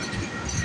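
A Canadian Pacific freight train of ethanol tank cars rolls past at close range, a steady broad rumble with low wheel and rail noise that stays constant through the brief moment.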